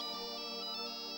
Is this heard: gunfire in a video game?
no